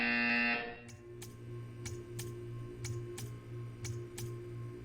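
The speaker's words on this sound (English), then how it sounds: "You will hear a buzzer." A short electronic tone in the video game Portal 2 gives way to a steady buzzer hum with regular ticking clicks about twice a second, close and moderately loud.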